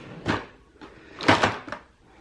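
An IKEA Alex drawer unit holding a makeup collection has its third drawer pulled open, giving a short scrape and knock, then a louder sliding rumble with a final bump, close and fairly clear with no talk.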